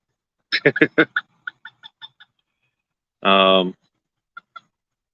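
Bantam rooster in a pen gives a quick run of loud, close clucks that taper into softer short calls, then one longer harsh squawk, followed by two faint final clucks; a person talks nearby.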